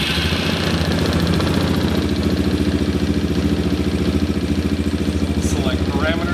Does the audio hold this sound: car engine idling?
yes